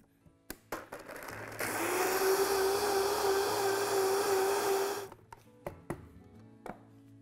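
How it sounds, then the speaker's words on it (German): A kitchen blender runs for about three and a half seconds, finely pureeing grated ginger and other vegetable curry ingredients, a loud steady whir with a droning pitch, framed by scattered knocks and clicks before and after. "Alle zusammen fein pürieren."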